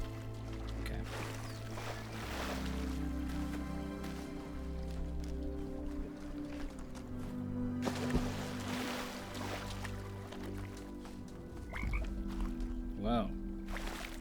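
Frogs croak among water and ambient music in the video game Talos Principle 2, a steady layered texture with a few distinct croaks rising near the end, no voices.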